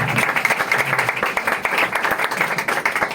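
Clapping from a church congregation during a Hindi-Punjabi Bible sermon, dense and steady throughout with sharp individual claps over a continuous wash.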